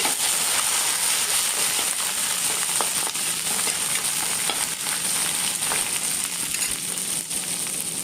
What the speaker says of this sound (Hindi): प्याज को हम यहाँ पर 2 मिनट भूनेंगे।